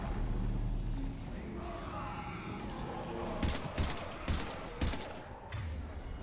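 Gunfire from the video game Mass Effect 3: bursts of rapid shots crack out over a low rumbling background, with several sharp volleys in the second half.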